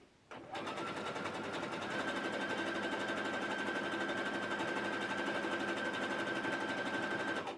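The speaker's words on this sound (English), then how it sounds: "using a stretch stitch on your sewing machine, also known as the zigzag stitch" A sewing machine runs steadily at speed, sewing stretch fabric with a zigzag stitch for a twist headband, a continuous close mechanical whirr and rapid needle chatter that starts abruptly and holds for several seconds with no talking.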